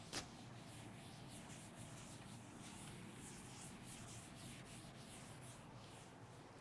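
Erasing writing on a classroom board, a soft continuous rubbing and scrubbing texture with faint rhythmic strokes, quiet and close, preceded by one brief click at the start.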